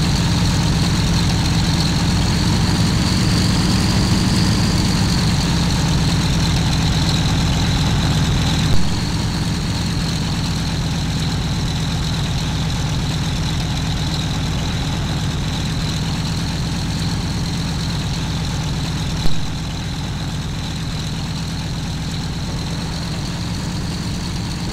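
A Waco YMF5 biplane's radial engine drones steadily as it taxis, a continuous low rumble with a constant propeller hum, heard from inside the aircraft with only slight level shifts throughout.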